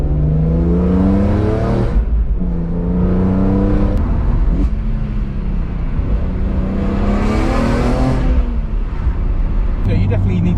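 A stage 2 tuned BMW F80 M3 of nearly 600 bhp accelerates hard through its gears, the engine note climbing in loud rising sweeps broken by very quick shifts, heard from inside the car with faint talk.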